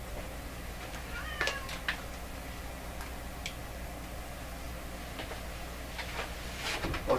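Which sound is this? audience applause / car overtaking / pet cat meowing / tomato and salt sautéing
pet cat meowing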